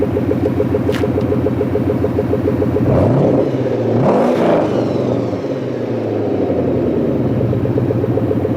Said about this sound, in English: I'm going to try to rev it up just so you can hear it.